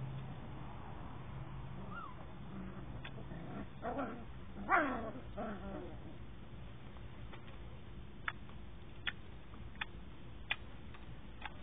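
A beagle puppy whimpers and lets out a short yelp at close range midway through, then goes quiet apart from a few sharp ticks. No talking is heard.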